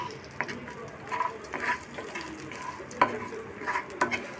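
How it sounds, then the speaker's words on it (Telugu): Tempering seeds fry in about two spoons of hot oil in a kadai, with soft sizzling and repeated scraping stirs of a spoon against the pan, close and moderately loud, no talking. "ఈ తాలింపు గింజలు బాగా వేగనివ్వాలి"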